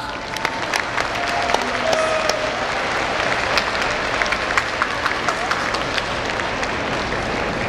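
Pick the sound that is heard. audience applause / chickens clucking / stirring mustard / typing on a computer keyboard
audience applause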